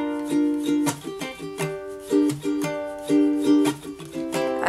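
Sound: ukulele strumming pattern with chucking

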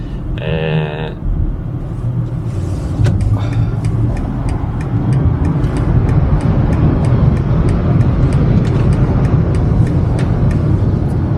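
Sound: BMW iX3 electric car accelerating to overtake combustion cars

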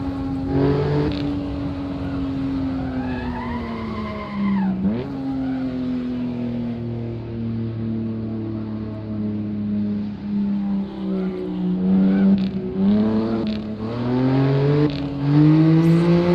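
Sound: race car engine in video game

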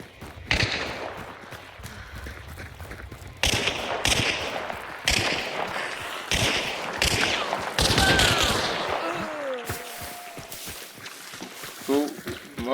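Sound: gunshots in a video game

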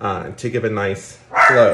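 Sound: dogs barking

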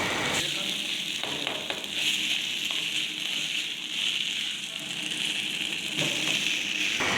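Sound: okra and crushed coconut being stir-fried in a pan

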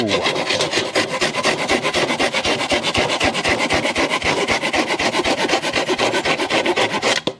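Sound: handsaw cutting wood

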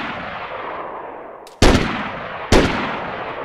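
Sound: gunfire in the video game DayZ

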